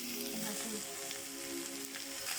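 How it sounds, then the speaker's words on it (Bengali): Mushrooms fry in a pan with a soft, steady sizzle, heard close but quiet and alone. "এবার আস্তে আস্তে আমরা মাশরুম ভাজাটা দিয়ে দেবো"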